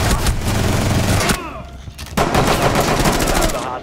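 Dense, loud rapid gunfire from Rainbow Six Siege on the Favela map in a team deathmatch round, with bursts rattling continuously, a short lull in the middle, then heavy automatic fire resuming.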